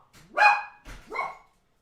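A dog gives two quick, sharp barks close by, the second slightly softer, with nothing else heard around them.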